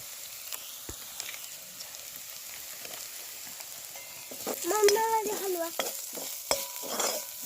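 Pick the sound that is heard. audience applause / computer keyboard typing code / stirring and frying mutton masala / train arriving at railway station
stirring and frying mutton masala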